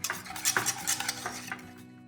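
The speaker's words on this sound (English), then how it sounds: "And just mix until the gelatin totally dissolves." Gelatin is stirred into a chestnut and maple mixture for a bûche, giving close, continuous wet swishing with light utensil scrapes against the bowl that fade toward the end, with no talking.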